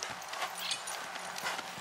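A young registered Criollo horse is worked in a corral, its hooves making faint, soft clip-clop thuds in an irregular rhythm over steady background hiss, with no voices.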